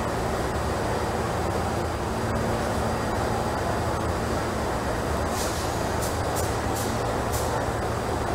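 A New York City subway Z train on the Myrtle Avenue viaduct, simulated in Trainz Simulator 2012, rumbles steadily with a continuous low drone, with several sharp bright clicks or squeals near the end.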